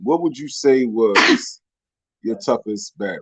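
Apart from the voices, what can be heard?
sneeze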